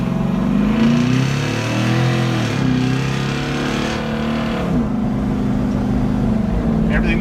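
A Jeep JK fitted with a 6.2 LS truck engine drives along, its engine droning loudly and shifting pitch as it accelerates and changes gear, heard from inside the cabin with continuous road rumble.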